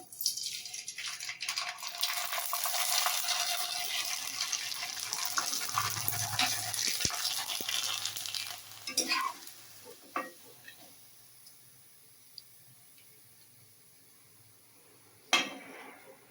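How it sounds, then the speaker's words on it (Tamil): Sun-dried sago vathal hits hot oil with a loud bubbling sizzle that fades over several seconds, followed by quieter scraping and a few sharp utensil clinks against the pan. "இப்போ எதை எண்ணெயில் பொறிச்சு காமிக்கிறேன்"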